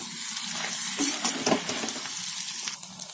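Chicken chukka fries in a pan with a steady, close sizzle, broken by a few soft scraping stirs.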